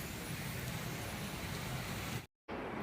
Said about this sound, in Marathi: अगदी पहाटेपासूनच इकडे पाऊस चालू आहे.